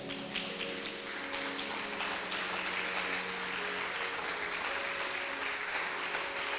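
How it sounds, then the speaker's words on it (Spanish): A church congregation applauds during a sermon, a broad wash of clapping from a large crowd, fairly distant and steady, with sustained tones from an instrument or organ underneath. "Denle un fuerte aplauso al Señor."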